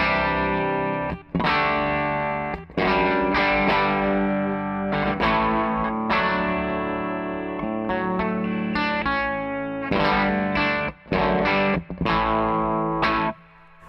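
A Music Man Cutlass bass runs clean into a Victory V40 amp and plays a riff of loud, sustained, ringing notes with short gaps between phrases, and no voices are heard.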